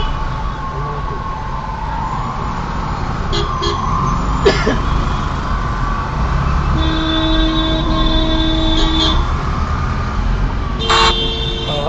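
Vehicle horns honk in Pune traffic, with a few short toots and one longer, sustained blare over a steady rumble of engines and road noise.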